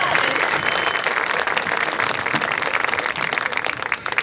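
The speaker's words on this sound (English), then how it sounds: "Let's give it another round of applause for the Piqua Marching Band." Dense crowd applause for a high school marching band at an evening performance, continuous clapping and cheering from a large audience, loud and steady throughout.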